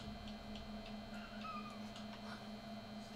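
A cat in The Amazing Frog video game gives a short, thin meow midway through, faint over a steady electrical hum and quiet game background.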